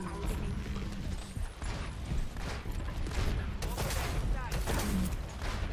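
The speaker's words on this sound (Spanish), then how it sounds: "Alguno de los tiros dispersos tenía que darle." Roadhog's scatter gun blasting repeatedly in the Overwatch capture-the-flag mode, several sharp bursts over a dense wash of game effects and other action, with players talking throughout.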